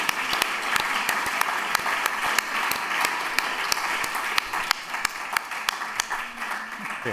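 An audience applauds at a literary event on poets' prose, giving steady, sustained clapping with many sharp individual claps standing out near the mic throughout, and no talking over it.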